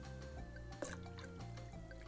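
About an ounce of shrub is poured for a cocktail, a soft, faint trickle of liquid running steadily into a glass beneath a continuous low background hum.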